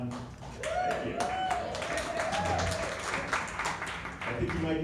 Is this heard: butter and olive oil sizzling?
no